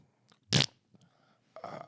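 A comedic fart sound effect, one loud broad burst followed by a second rougher, longer blast after a short gap, played alone without talk.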